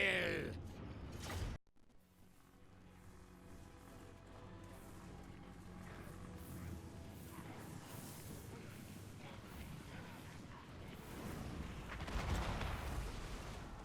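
Mortar artillery booms during a siege battle at Marienburg in Total War: Warhammer 2, with a sharp impact early followed by rumbling battle noise, clanking mechanisms and scattered distant shots swelling near the end.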